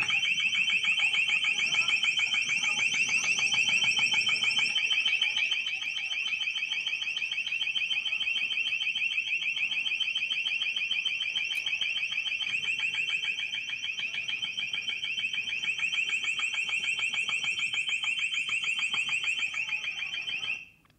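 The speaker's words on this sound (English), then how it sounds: "This is the sound of the LRAD, the long-range acoustic device," A long-range acoustic device at a G20 demonstration blasts a piercing, steady high-pitched warbling alarm tone, loud and continuous for about twenty seconds before cutting off abruptly.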